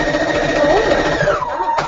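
A domestic sewing machine stitches at high speed in a steady, loud whir, slowing and stopping near the end with a brief click.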